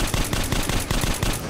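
Rapid, loud automatic gunfire in the video game Metro Last Light, aimed at a giant spider, with dense rhythmic bursts continuing throughout and no speech.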